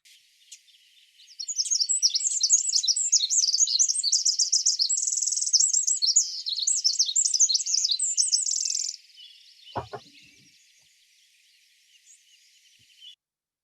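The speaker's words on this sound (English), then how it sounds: "you might see the Pacific wren, which is a relative of our backyard Buick's wren. And listen to this because it's got a cool song." A Pacific wren delivers a long, rapid, complex song of tumbling high trills and warbles, close and clear, running for about seven seconds before stopping; then comes a brief low knock and a fainter, scratchy high trace.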